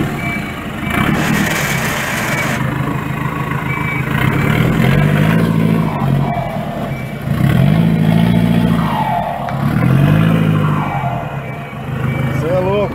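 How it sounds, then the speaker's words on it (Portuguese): Iveco truck engine revved in repeated surges, rising and falling loudly up close, with turbo whistle between the rises and people talking over it. "Vou dar uma resinha agora."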